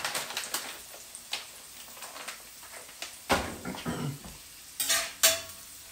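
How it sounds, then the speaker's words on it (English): Real bacon pieces and onions cook in a pan, with a faint sizzle under scattered spoon stirs and scrapes against the pan, and a few louder clinks near the end. "I'm going to go ahead and add just a little bit of these real bacon pieces to them."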